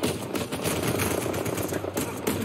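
Rapid gunfire in the video game Uncharted 4, a dense burst of loud repeated shots with mechanical clatter running through the whole moment.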